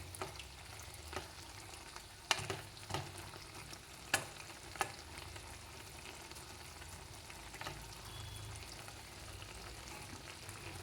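Ivy gourd curry simmering and frying in a pan, giving a soft, steady sizzle at low level with a few scattered stirring clicks and taps.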